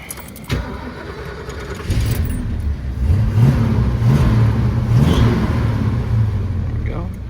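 A 1970 Ford Mustang convertible engine cranks and catches with a sharp start, then settles into a loud, steady mid-pitched idle with slight revving, heard up close.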